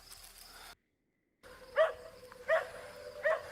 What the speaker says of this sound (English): this guy has a dog barking at him in the background